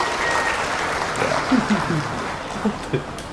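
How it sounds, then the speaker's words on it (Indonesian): An audience claps together at an Indonesian political speech, a dense steady applause with a few brief voices or chuckles rising over it. "tepuk tangan dulu"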